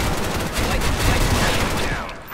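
Dense, continuous bursts of rapid gunfire in the Soldier Front online shooter, loud and close, filling the whole stretch with overlapping shots.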